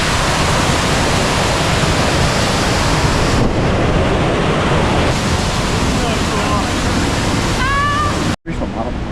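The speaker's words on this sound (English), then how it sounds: "we've just come to one of the waterfalls." A waterfall near Interlaken, Switzerland, roars with a loud, constant broadband rush for nearly the whole stretch, nearby, with a brief gap near the end.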